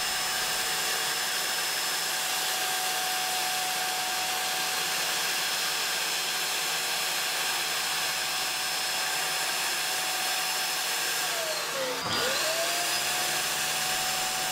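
A vacuum cleaner roars with a steady, loud whoosh throughout, then cuts out briefly and starts up again near the end.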